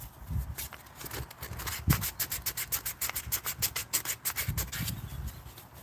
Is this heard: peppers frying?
no